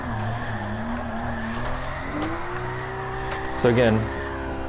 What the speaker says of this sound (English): So I need to get a good drift around there.